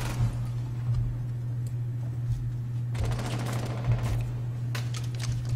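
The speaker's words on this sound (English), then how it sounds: "Where did that shot come from?" Gunfire from the video game Rainbow Six Siege, bursts of rapid shots crackling over a steady low hum, with a denser volley in the middle.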